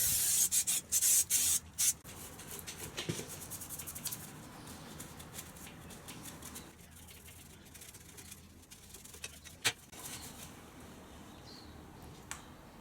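A brush works lubricant spray into a motorcycle chain with soft rubbing and scrubbing strokes, led by a short hiss of spray followed by scattered clicks and scrapes at close range.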